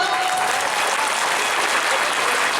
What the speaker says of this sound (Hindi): बहुत अच्छी लगी तो जोर से ताली बजाओ